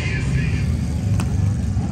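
Cars and motorbikes rumble past in a street parade show, a steady, loud low engine drone filling the whole moment with a brief sharp accent midway.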